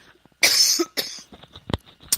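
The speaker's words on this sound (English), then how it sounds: "I'm about to cough here" A few sharp, close coughs in quick succession, loud and harsh, with brief quiet gaps between them.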